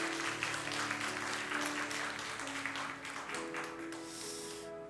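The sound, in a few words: applause in church service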